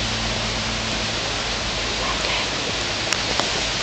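Steady, loud rushing of running water along a forest canyon trail at a zoo fills the whole stretch, a constant broadband wash with a couple of faint ticks near the end.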